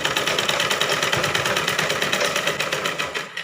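A sewing machine runs continuously, stitching a blouse seam with a fast, even, rhythmic whirring clatter close by, with no talking.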